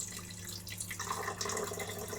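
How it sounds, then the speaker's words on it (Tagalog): Water poured into a gac fruit and passion fruit mixture with honey, a close, steady splashing trickle that grows fuller and brighter partway through. "Lagyan natin ng tubig."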